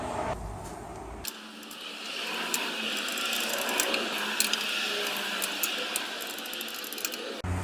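Ratchet wrench with a small swivel and 10mm socket loosening transmission pan bolts near the cross member of a Land Cruiser with an A442F automatic; a steady run of close, rapid clicking pawl ratcheting with a few sharper clicks.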